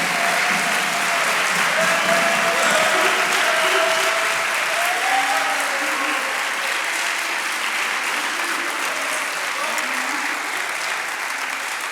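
A crowd at a chapel talk at Wabash applauds to welcome a speaker, with dense, sustained clapping close and loud that stays steady and fades only slightly, a few faint voices mixed in.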